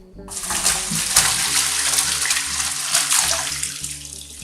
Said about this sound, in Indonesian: Setelah direndam, cuci bersih dengan air mengalir seperti ini.